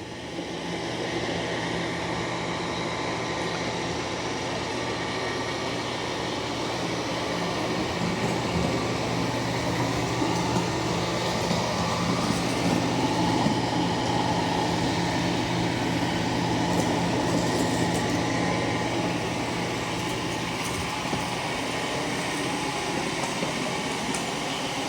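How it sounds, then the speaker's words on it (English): A Eufy C28 robot vacuum and mop working across a room with its water set to high, a steady loud whirring drone with a broad airy hiss, continuous and unchanging throughout, no voices. "we're going to see how the Eufy C28 vacuum and mops this room"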